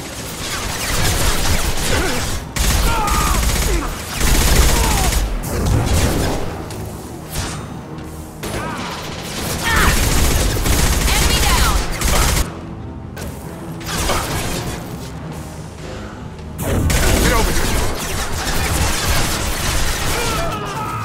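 Bursts of sci-fi weapon fire in a Mass Effect 2 combat firefight, sustained loud volleys and crashes with short gaps, mixed with game sound effects.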